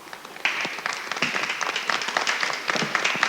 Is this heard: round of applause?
yes